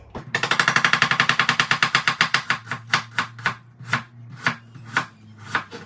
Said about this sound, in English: So I'm about 3/4 through the onion, and when I'm here, just roll that piece over and slice all the way through